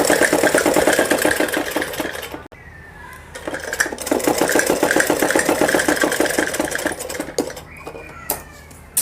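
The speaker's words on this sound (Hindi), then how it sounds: "इसी पोंचे पे हमको सीधी तरफ से यहाँ पर सिलाई लगानी है।" A sewing machine stitches a Patiala salwar cuff in rapid, close bursts of rhythmic needle chatter, pausing briefly twice before resuming.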